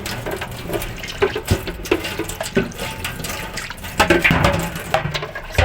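Tap water runs and splashes close by while a fridge is washed with soap, lemon and white vinegar, with irregular splashes and knocks of handling.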